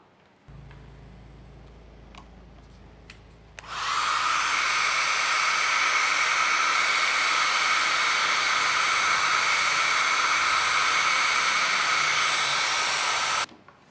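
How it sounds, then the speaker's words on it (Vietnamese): A hair dryer switches on with a loud, steady blowing roar that runs for about ten seconds, used to reveal invisible-ink writing, then cuts off; a few faint clicks precede it. "Để làm cho thông điệp hiện ra, các bạn phải dùng máy sấy tóc"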